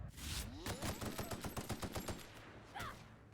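Rapid automatic gunfire from The Outer Worlds video game rattles off in a fast, steady burst of close, loud shots, then stops, followed by a single sharper report near the end.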